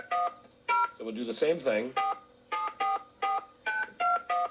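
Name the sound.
telephone number being dialed, touch tones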